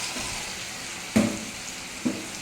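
Steady sizzling hiss of a frying pan, with two brief louder bursts as fried pointed gourd is dropped into the hot oil.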